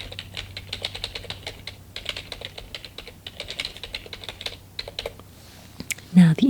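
Steady typing on a computer keyboard in a quiet room, rapid soft clicking bursts with brief pauses, close-up, and a brief louder rustle near the end.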